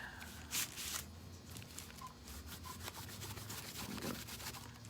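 Wood stain is rubbed by hand into a wooden door hanger, giving a faint, continuous scrubbing and rubbing sound with a few brief louder scrapes near the start, close and quiet.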